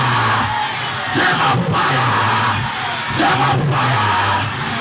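A church congregation at a healing service bursts into loud collective shouting twice, each burst rising from a constant, noisy crowd roar.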